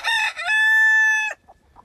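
A small rooster crows once, loud and close, a sustained strained cock-a-doodle-doo that cuts off sharply, followed by faint clucking.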